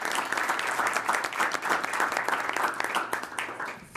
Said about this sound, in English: That applause probably says it all.